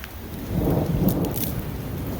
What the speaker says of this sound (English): massive hail here.